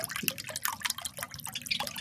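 Water is poured into a container to mix a drink for birds, giving a run of light splashing drips and trickles close by over about two seconds, with no voices.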